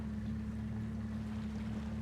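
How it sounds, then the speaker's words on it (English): A boat engine runs in Farming Simulator 25 as a steady low droning hum, with a faint wash of water and wind beneath it that stays constant and fairly close throughout. "Takes off like a real boat."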